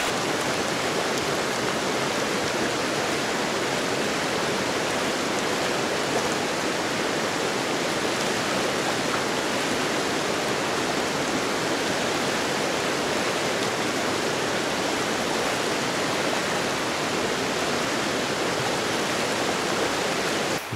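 River water rushes at a ford being waded during a hike, a dense, constant loud roar and hiss of flowing water close by, unbroken throughout with no voices.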